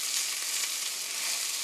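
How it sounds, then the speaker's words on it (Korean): A beef roll fries gently in a pan with a soft, even sizzle that stays at a low, steady level, with only faint hints of slow turning and no voices. "이렇게 살짝 익기 시작하면 고루 천천히 뒤집으면서 볶아주세요."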